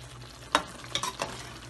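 Chicken karahi sizzles steadily in a pan over high heat, a dense, close frying hiss broken by a few sharp stirring scrapes and bubbling pops.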